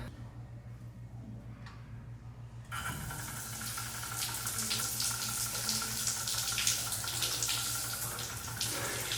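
A cold shower is switched on, and the steady hiss of running water starts abruptly a few seconds in and continues close and loud, with a low hum underneath throughout.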